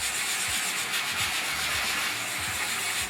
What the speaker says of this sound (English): sand it a little better, or Scotch-Brite it a little better